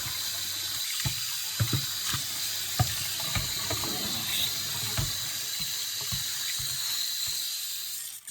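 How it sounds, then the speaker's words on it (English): Tap water runs steadily into a kitchen sink as pans are rinsed before assembling a veggie beef lasagna, with intermittent clunks and knocks of the pans against the basin under a continuous close splash. "let me rinse these out a little bit"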